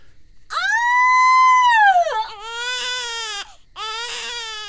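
A newborn baby cries loudly in a dramatized audiobook birth scene, a long wailing cry followed by two shorter sobbing bursts, close and alone with no talk over it.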